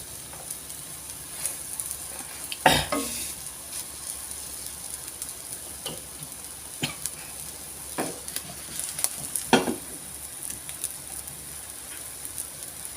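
A chicken and egg omelette frying in a pan, a steady soft sizzle running throughout with occasional sharper clinks and scrapes of a spatula, close and unaccompanied by talk.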